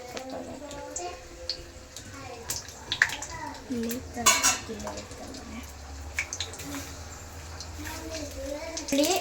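Raw chicken stirred in hot oil in a pan, with a utensil clinking and scraping against the metal in irregular strokes while someone talks over it.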